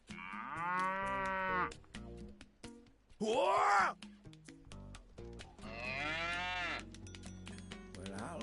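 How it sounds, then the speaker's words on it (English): Bororo cattle lowing loudly, several long, deep groaning moos rising and falling close by, with a brief shouted exclamation from a person in between. "Well, I'll be. Bororo cattle."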